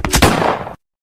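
A cartoon gunshot from Shadow's gun in a Sonic the Hedgehog animation: a loud, close burst of two or three quick bangs with a short rattling tail, then abrupt silence.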